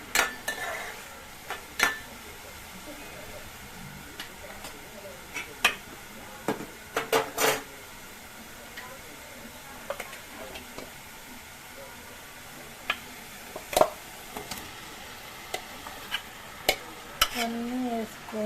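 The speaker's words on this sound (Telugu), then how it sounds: "ఇది కూడా ఫైన్గా కలిసిన తర్వాత ఇప్పుడు చికెన్ పీసెస్ వేసుకుందాం" Chicken pieces go into a pan of curry masala and are stirred, with scraping spoon strokes, clinks against the pan and a soft sizzle underneath, close up and steady.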